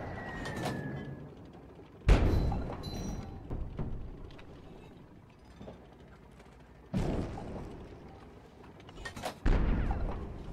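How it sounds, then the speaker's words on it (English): Airstrike explosions in a video game land as a few sharp, booming impacts spaced several seconds apart, with softer mechanical clanks and rumbling between them. "Airstrike."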